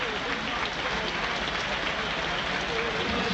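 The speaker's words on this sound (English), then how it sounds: "Well, Brodie Spencer applauded off" A football crowd at Huddersfield Town v Sunderland applauds as Brodie Spencer, suffering from cramp, is substituted off. The clapping is a dense, steady roar that fills the whole clip, with voices mixed into it.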